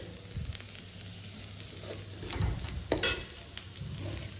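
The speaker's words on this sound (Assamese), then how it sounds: "লৰাই লৰাই এইখিনি ভালদৰে ভাজি ল'ম" Masoor dal and potatoes frying in a pan while being stirred, a low steady sizzle under repeated spoon scrapes and light clinks, close by, with a stronger clatter near the middle and no speech.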